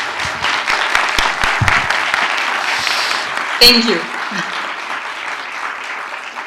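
Audience at a film festival Q&A applauding, a steady wash of clapping throughout, with a brief spoken thanks partway through.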